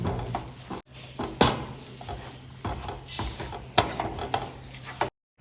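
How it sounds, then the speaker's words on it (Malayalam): A spoon works rava laddu mixture around a pan in repeated scraping strokes with occasional sharp knocks against the metal, over a faint sizzle, then it cuts out abruptly near the end. "കുറച്ചതിന് ശേഷം നന്നായിട്ട് ഇളക്കി കൊടുക്കണം ഇളക്കി കൊടുത്ത് ഒരു കുഴമ്പ് പരുവത്തിലാകുന്നത് വരെ നമ്മൾ ഇളക്കി കൊടുത്തുകൊണ്ടേയിരിക്കും"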